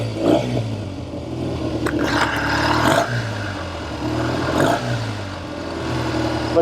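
A 1970 Triumph Tiger 650 motorcycle engine runs close by, its note rising and falling in uneven surges with a light mechanical clatter and no talking.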